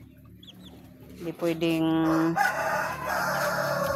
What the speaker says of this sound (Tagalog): ayan ang mga alaga kong mga manok, guys, oh